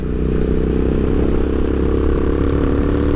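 Royal Enfield Interceptor 650 motorcycle engine held at full throttle, a loud, steady, throbbing parallel-twin drone with dense mechanical clatter, continuous and close, no talk.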